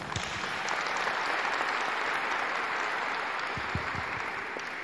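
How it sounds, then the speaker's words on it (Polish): An outdoor crowd applauds a children's fire brigade in a village, with steady, moderately loud clapping throughout and a few sharper individual claps standing out. "Brawa dla was wszystkich"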